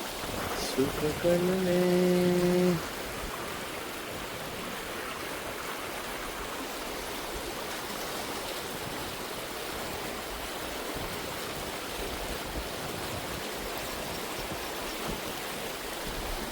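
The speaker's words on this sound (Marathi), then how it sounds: "कसला पाणी आला आहे जोरात अजून येईल पाणी जोर जोरात भरपूर पाण्याला फोर्स आहे" A strong rush of flowing water roars steadily throughout; a short tonal beep sounds near the start over the torrent.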